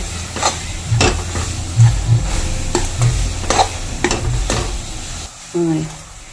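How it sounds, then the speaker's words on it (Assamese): Stirring a pitha mixture seasoned with cardamom powder in a pan, with soft repeated scraping and light sizzling from the cooking, a few clinks of the utensil against the pan, and a brief clatter near the end. "অকণমান ইলাচি গুড়ি দি দিছোঁ, দি পেলাই আকৌ মিলাই লৈ"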